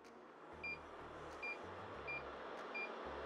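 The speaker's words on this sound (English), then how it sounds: "every time we press this one, we can hear a beeping" An Acoolir bladeless fan answers each press on its touchscreen button with a short electronic beep, four quick beeps evenly spaced over a quiet airflow hum.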